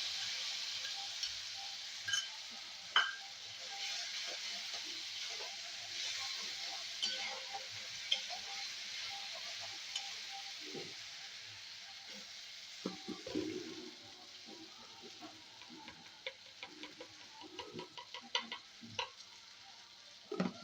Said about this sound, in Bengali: এবার আমি গোলা মশলাটাকে আমি দিয়ে দিচ্ছি।